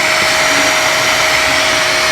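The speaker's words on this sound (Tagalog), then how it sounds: "Magkaroon siya ng blower." Cooling blower fan inside a repaired Reaim MMA900 welding inverter running on a workbench, a steady close airy whir with a faint tonal hum, unbroken and without talk.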